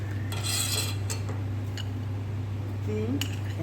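A spoon stirs milk in a pot while kulfi is being made, giving light, scattered metallic scrapes and clinks over a steady hum.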